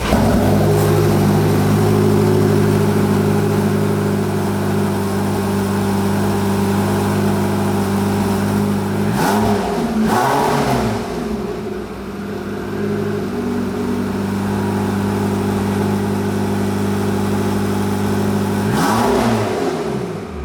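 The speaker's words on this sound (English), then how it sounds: "So we get to hear that engine sound." A Porsche 918 Spider hybrid hypercar's engine drones loud and steady at a high rev, swelling in three distinct throttle blips with falling pitch sweeps, close by and with no talking.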